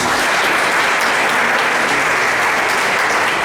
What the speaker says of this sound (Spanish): Le recibimos con un cariñoso aplauso.